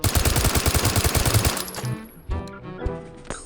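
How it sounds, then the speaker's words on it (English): An integrally suppressed Sten submachine gun fires a rapid full-auto burst in H3VR, a muffled, evenly spaced string of shots that stops abruptly, followed by mechanical clicks and clatter. "Same fire rate as the Mark II,"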